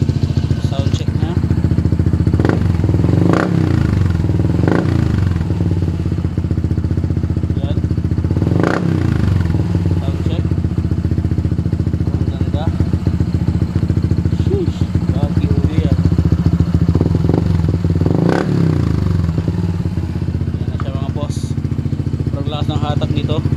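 A Honda PCX 160 scooter fitted with a KOU power pipe exhaust runs loud and close, idling with a steady throaty burble and rising into a few revving swells.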